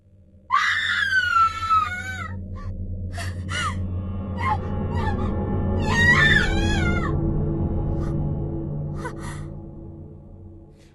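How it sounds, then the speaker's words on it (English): A female character in the video game Book of Shadows screams loudly in two sharp bursts, one near the start and another midway, over a steady low game music and ambient bed. "Why was Amy screaming?"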